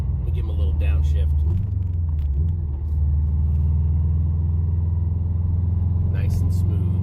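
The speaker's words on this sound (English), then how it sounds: "Let me give him a little downshift." A car engine downshifting on a track, a loud steady close-up rumble with a brief dip and rise in revs partway through, and faint voices now and then.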